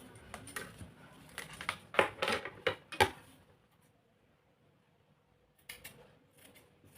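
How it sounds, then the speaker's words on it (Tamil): Scissors cut through a skirt's fabric: a quick series of crisp snips and rustles close by, a pause, then a few more cuts. "இப்போ இந்த பீஸை மட்டும் நம்ம தனியாக கட் பண்ணி எடுத்துக்கணும்"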